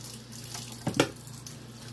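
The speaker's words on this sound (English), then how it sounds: "I've got hot water going." Hot water runs from a kitchen tap in a steady, soft hiss, with a brief louder splash burst near the middle as the stream hits something.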